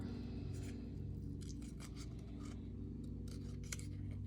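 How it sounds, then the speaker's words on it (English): Scissors snip through cardstock to cut out a heart shape, a series of short crisp cuts and scrapes heard up close over a steady low background hum, with no talking. "Now to cut out that heart, I just stick my scissor through like that, and then I trim out"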